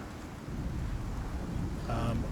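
A storm in the survival game Icarus, heard as a low, steady rumble of wind and weather with gusty swells, soft and continuous, while a voice briefly comes through near the end.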